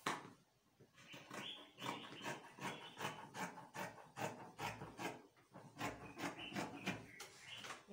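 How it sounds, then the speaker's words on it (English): Scissors cutting through fabric for a pair of sleeves, heard as a close, steady series of rasping snips and rustles repeating roughly every half second. "I am going to cut both sleeves at the same time. So I'll trim this portion off."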